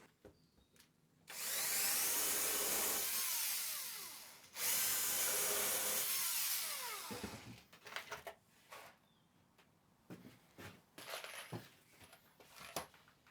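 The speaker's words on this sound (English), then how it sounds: "I add in a couple of screws." A power drill drives screws into the centre hub of an MDF cartwheel in two long, loud whirring bursts, each ending in a short wind-down, followed by scattered lighter knocks and handling noises.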